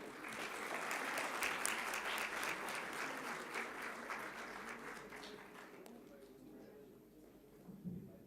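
An audience at the Manav Rachna university convocation claps in a sustained burst of applause, moderately loud and echoing in the hall, fading out after about six seconds into quieter room tone and a brief bump.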